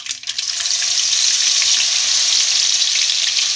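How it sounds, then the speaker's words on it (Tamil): Garlic frying in hot oil with spluttered mustard seeds and fenugreek, a steady close, loud sizzle that holds evenly throughout with no voices. "இப்போ கடுகு வெந்தயம் நல்லா பொரிஞ்சதுக்கப்புறம் நம்ம இந்த பூண்டை சேர்த்துடணும்"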